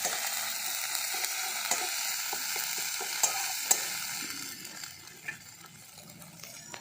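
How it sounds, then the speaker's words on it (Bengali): Ginger paste, a little garlic and spices fry in a pan for a Bengali fish curry, giving a steady close sizzle with scattered stirring scrapes and small clicks throughout, no voices. "এবারে মশলাগুলো খুব ভালো করে ভেজে নেব"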